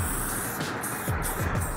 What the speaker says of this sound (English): spray painting away